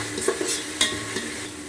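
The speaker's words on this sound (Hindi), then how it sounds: "मैं इसमें डाल दूँ लाल मिर्ची, हल्दी डाल दूँगी और इसको अच्छे से मिक्स कर लेती हूँ" Softened tomatoes with red chili and turmeric are stirred in a sizzling pan, making a few quick scraping strokes and a clack of the utensil over a steady fry, close and without speech.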